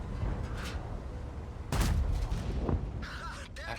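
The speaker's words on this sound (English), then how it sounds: "everybody's shooting at me." Tank cannon fire in a Tiger-Maus video game match: a couple of sharp, booming shots hit mid-clip over a steady engine rumble and background battle noise.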